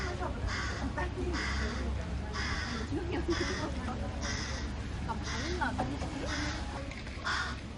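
Several crows caw repeatedly in harsh bursts, fairly close, over steady background noise while people talk quietly, in Hokkaido, Japan.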